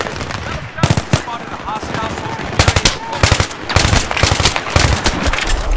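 Heavy gunfire from a slow-firing, hard-hitting G3A3 rifle in Battlefield 3, sharp loud shots in uneven bursts mixed with other weapons firing nearby, with a voice talking over the shooting.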